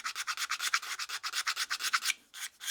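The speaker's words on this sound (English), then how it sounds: "So I do more sanding, then wash and dry and sand and wash and dry and sand" A wooden cooking spoon is sanded by hand in quick, even back-and-forth strokes, close and dry, about a dozen rhythmic scrapes before a short pause and a couple more.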